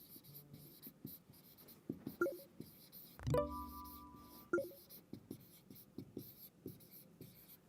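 Pen writing words on paper, soft scratchy strokes in short bursts, close and faint, with a few small knocks and a brief tonal bump midway.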